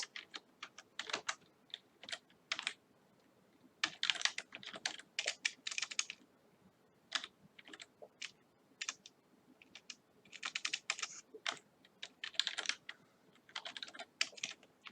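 Rapid bursts of keystrokes as code is typed on a computer keyboard while programming a temperature sensor readout, clicking in uneven clusters with short pauses, close and moderately quiet, with no talking.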